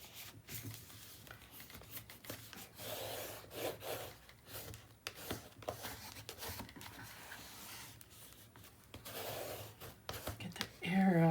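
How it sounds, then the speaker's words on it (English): Paper is firmly burnished onto a mini album page, giving soft repeated rubbing and scraping strokes close to the microphone, with faint talking around them. "we're going to really give this a good burnish"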